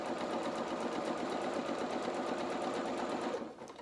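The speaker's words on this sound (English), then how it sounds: "I'm just sewing so far, and then I'll stop" Sewing machine stitching felt fabric for a doll's bloomers, a steady fast whir of needle strokes running continuously at close range, then slowing and stopping at the end, with no talking.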